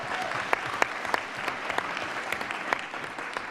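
A school district audience gives a round of applause at a leadership award ceremony. The sound is a steady, dense wash of many hands clapping at moderate distance, with no talk over it.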